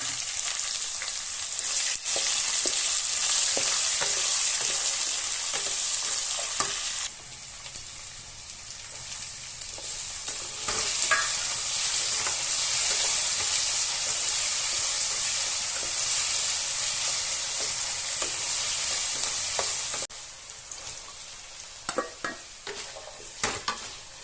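Chopped onions sizzle and hiss loudly in hot oil for vegetable upma, with frequent clinks and scrapes of a stirring spoon against the pan and a few brief dips in the frying, heard close up without talk.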